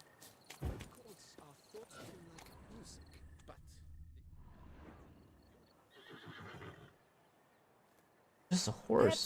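A horse in The Witcher 3 video game whinnies sharply and snorts, with soft clip-clopping hooves and a few quiet game sounds between, ending in a loud neigh.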